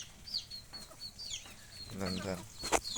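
Chickens on a farm cluck in short bursts with a rooster nearby, the calls rising into a louder, harmonic squawk near the end, with faint voices in the background.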